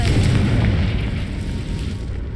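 Confringo blasting spell going off in the video game Hogwarts Legacy: a loud, sustained low rumbling explosion that fills the moment and slowly tails off.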